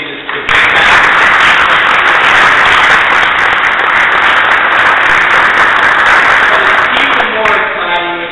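An audience at a congressional field hearing in Detroit bursts into loud, sustained clapping that holds steady for several seconds, then begins to thin as voices emerge near the end.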